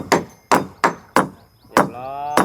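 Hammer pounding at a house-building job, five sharp, loud blows landing at an uneven pace, the last one followed by a brief metallic ring.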